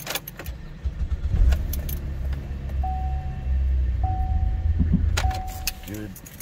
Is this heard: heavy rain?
no